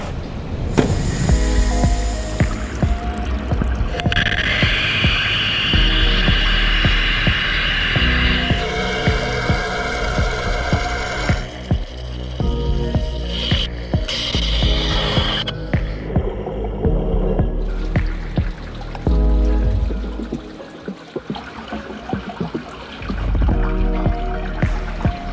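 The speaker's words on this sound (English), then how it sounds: "we're going to cut one of these 304 stainless parts using our uncoated brass wire" A Sodick wire EDM machine cutting a 304 stainless steel part with uncoated brass wire, a continuous layered machine hum and whine with shifting tones, pumping throb and occasional clicks, with no speech.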